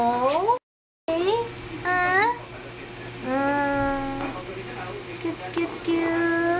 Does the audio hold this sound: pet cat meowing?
yes